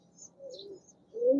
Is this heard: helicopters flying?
no